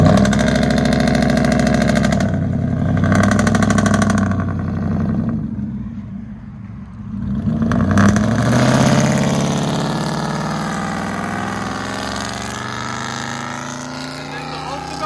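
A 2005 Ford F-150 with a 5.4L Triton V8, true dual exhaust and Cherry Bomb glass packs burbles loudly near the microphone, revving in surges with a brief drop to quieter idle before climbing again.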